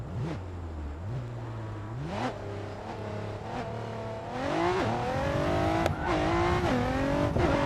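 A Nissan GT-R R35 driven in the racing video game Racing Master, its engine revving up through the gears with pitch climbing and dropping at each shift, loud and steady, with brief squeals over the engine.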